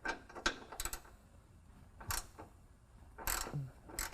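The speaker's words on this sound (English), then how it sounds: "I'm going to go ahead and break them loose with a 13 millimeter socket here" A ratchet with a 13 mm socket breaks loose exhaust bolts on a 2019 Ram 1500. Short, quiet bursts of clicking pawl noise come in several separate strokes, close by, with no voices.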